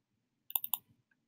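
A computer mouse clicks in a quiet room, a quick close cluster of three or four crisp, light clicks with a faint soft rustle trailing after.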